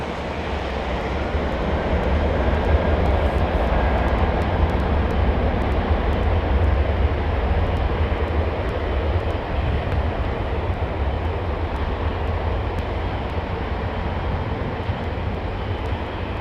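A Turkish Airlines jet arriving from Istanbul at London Heathrow Airport, with a constant, heavy, low engine roar that holds steady and loud across the whole stretch, with no voices.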